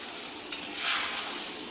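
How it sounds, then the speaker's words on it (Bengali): Hot water poured into a pan of potato and pointed gourd frying with spices: a steady sizzle flares into a brief hissing surge, then settles back to a soft, even fry. "আমি জল দিয়ে দিচ্ছি"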